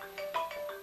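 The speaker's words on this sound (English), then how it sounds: "maybe that's the phone call I'm looking for." A phone rings with a bright electronic ringtone pulsing in quick, evenly spaced bursts, close and moderately loud, with no voices over it.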